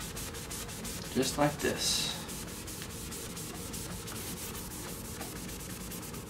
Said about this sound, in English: Here's our crayon. Here's our magic eraser.